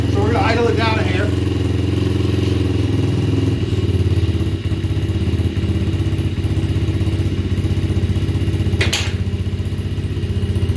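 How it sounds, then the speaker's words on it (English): A 90cc Pantera engine idles slightly high, a steady close, loud mid-pitched rumble running evenly throughout, with a few light clattering knocks and a brief voice near the start. "Idle's a little high, so we're going to idle it down a hair."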